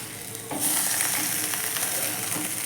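Raw banana slices fry in oil in a cast-iron pan, a dense close crackling sizzle that swells louder after the first half-second and then holds steady, with no voices.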